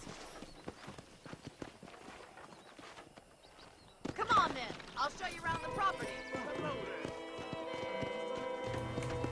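Horse hooves clip-clop while riding in the Western video game Red Dead Redemption, a steady rhythmic trot under a man's speech, with an occasional whinny and game music and ambience building after the first few seconds.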